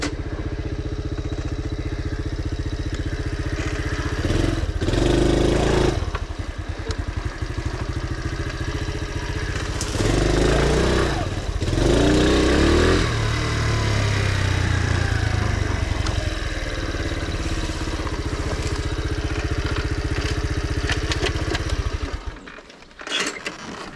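A Honda CT motorcycle engine runs steadily while riding a summer trail, a loud, close mid-pitched drone with occasional surges and rattling clatter, fading near the end.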